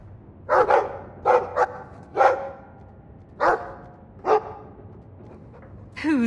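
Dog in the video game Dragon Age 2 barking in short yelps, about seven sharp barks spread irregularly, fairly close, followed by a voice at the end.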